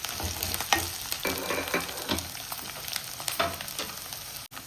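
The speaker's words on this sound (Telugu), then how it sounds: "అల్లం వెల్లుల్లి పేస్ట్ పచ్చిమిర్చి పోయే వరకు కొంచెం ఫ్రై చేసుకోవాలి." Ginger garlic paste and green chillies fry in a pan with a continuous close sizzle, broken by repeated scraping strokes of a stirring spoon and a sharp clack near the end.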